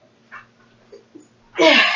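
A single sudden, forceful sneeze bursts out after a few quiet breathy sounds.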